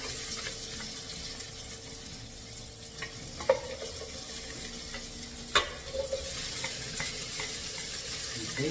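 Food frying in olive oil together with rendered fat while being stirred, with a steady sizzle throughout and a few louder scrapes and clinks from the stirring.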